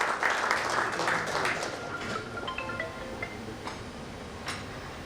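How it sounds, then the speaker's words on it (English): Applause from an event audience rings out loudly at first, then thins and fades over several seconds, with scattered cheers and voices toward the end. "can we please have a huge round of applause for ma'am?"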